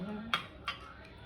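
Cutlery clinks against a bowl as eggs are beaten for a Thai-style omelette seasoned with fish sauce, two sharp taps standing out over faint background hum.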